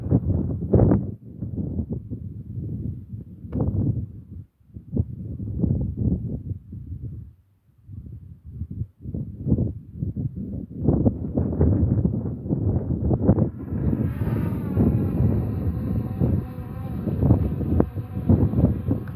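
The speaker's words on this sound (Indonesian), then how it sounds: "Angin inilah ya, terlalu kencang ini." Strong wind batters an outdoor microphone during a drone flight, a loud rumbling buffet in uneven gusts that later gives way to a higher whirring hum.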